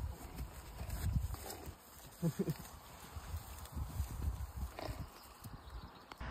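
Horses kept as a hobby move nearby, their hooves clip-clopping in an uneven rhythm over soft ground, moderately close, with occasional rustling and a brief snort-like sound.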